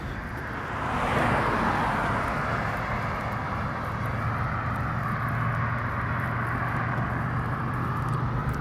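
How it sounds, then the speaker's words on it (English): A passing freight train in Stockbridge, Georgia, heard outdoors as a broad, steady rumbling roar that swells after the first second and holds, moderately distant with no talk. "It's probably a freight train."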